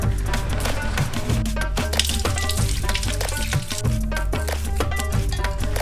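Curry leaves fry in kabab masala in hot oil, giving a dense, steady sizzle full of rapid crackles and pops. The frying is close and continuous.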